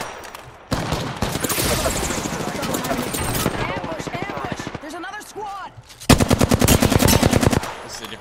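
Rapid automatic weapon fire from an Apex Legends match rattles in dense bursts, pausing briefly before a loud, close final volley, with team voice chat talking throughout.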